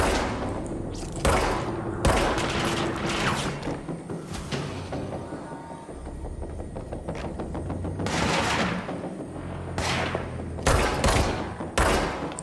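Bursts of automatic gunfire and single shots ring out in the video game Control, clustered volleys with thuds between them, loud and close over a low background.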